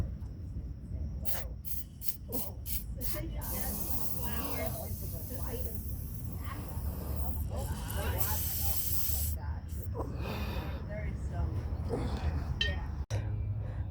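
Blaster penetrant is sprayed onto a rusted bolt on an old Jeep Cherokee in several short hissing bursts, then in one longer spray, close to the microphone, ending with a sharp click.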